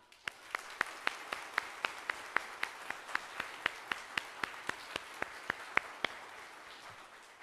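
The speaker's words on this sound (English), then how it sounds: "So let's give them a big round of applause." Church congregation applauding its pastors during a worship service, sparse clapping with a few sharp, evenly spaced claps standing out over a softer patter of hands, fairly quiet and without voices.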